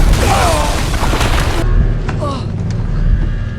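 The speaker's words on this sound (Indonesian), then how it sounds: "Tiba-tiba terjadi ledakan." Video game explosion: a deep rumbling blast with crackling debris, heard under a narrator's voice talking throughout.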